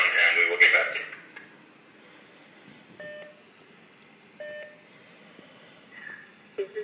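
An answering machine's message tone sounds as two short, clear beeps about a second and a half apart, following a brief louder burst at the start over a quiet background hiss.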